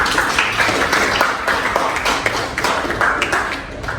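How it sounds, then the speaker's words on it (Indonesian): A classroom of students claps their hands together, a dense, uneven patter of many claps sustained for a few seconds at close range, without any voices over it. "Oke, tepuk tangan dulu."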